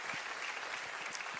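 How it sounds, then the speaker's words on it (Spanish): A church congregation claps throughout, a steady dense patter of many hands from the room with no break in the sound. "¿Puedo dar un aplauso a Dios en esta mañana?"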